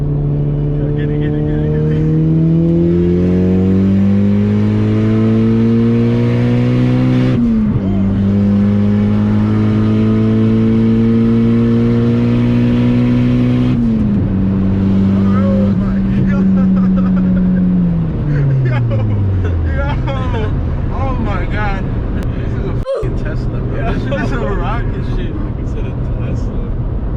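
A big-turbo Honda Civic pulls hard through the gears with no traction, the engine note climbing, dropping at each shift and rising again, loud and close from inside the car before a sharp pop near the end.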